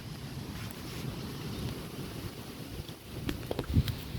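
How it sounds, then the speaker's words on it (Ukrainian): Steady, roaring wind buffets the microphone outdoors in a spring forest, with low rumbling gusts that swell louder toward the end. "Такий вітер піднявся великий."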